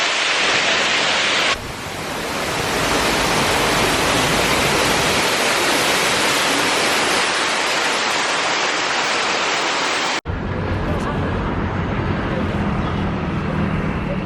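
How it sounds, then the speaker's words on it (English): Loud, steady rushing water of a waterfall in Taipei fills the scene, with a brief break partway before the roar continues more softly. "That waterfall's quite cool."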